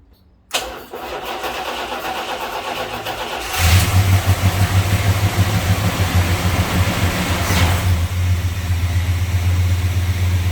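A 1978 Roadrunner's engine cranks and catches after a choke is set, then settles into a loud, steady rumble with a clear rev midway before easing back to idle, recorded close up with no talking.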